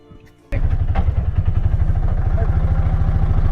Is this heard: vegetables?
no